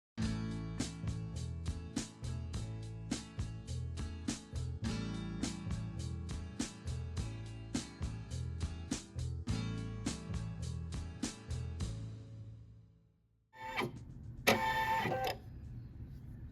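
An embroidery machine stitches the body of a Kimberbell bee keychain design with a fast, steady mechanical pulse for about twelve seconds. It then stops, followed by brief clattering handling noises.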